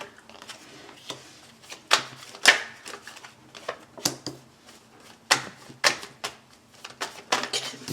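Tarot cards shuffled for a reading: a series of crisp papery riffles and slaps in irregular bursts, close and fairly loud, with soft rustling between them and no talking.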